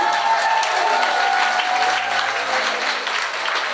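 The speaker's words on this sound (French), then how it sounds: "Applaudissez." A crowd applauds loudly and continuously at a gathering, dense clapping filling the room without a break and no talk on top.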